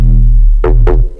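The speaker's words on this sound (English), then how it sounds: "So this main bass is the one that goes like this." Square-wave synth bass line run through a scream filter, loud and sustained with two bright accented stabs near the end, heard alone without talk.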